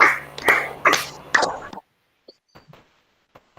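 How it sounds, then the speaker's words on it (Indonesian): A group claps hands in time on a count: four sharp, evenly spaced claps over about a second and a half, then near silence with a few faint ticks. "Yuk, terbahan sambil tepuk tangan."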